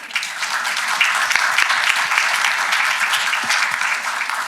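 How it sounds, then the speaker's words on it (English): A conference audience at a peace and dharma panel discussion applauds in steady, dense clapping that fills the room evenly for several seconds, with individual claps popping through near the microphone. "They deserve a little applause for that."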